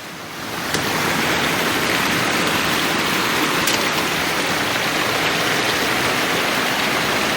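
River water rushes down from falls on the Champagne River in Saint Ann, Jamaica, a loud, dense, unbroken roar that swells in within the first second and then holds steady, close and without voices.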